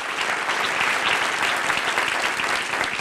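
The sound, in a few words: applause for Jesus Christ in church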